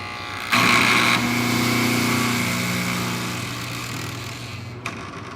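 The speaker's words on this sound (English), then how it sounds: "you're hearing this chattering sound" A relay coil's armature chatters as its supply voltage is lowered, a loud, close, continuous buzzing rattle that starts abruptly and slowly fades over several seconds, with no talk over it.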